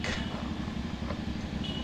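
Motorcycle fitted with an SC Project 450SR small canister exhaust, idling with a steady, throbbing mid-pitched putter, loud and close throughout the short burst.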